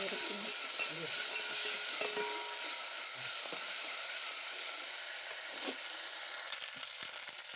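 Garlic paste frying in a pan while kebab is being cooked makes a steady hiss and sizzle, with soft stirring scrapes and a few light clinks.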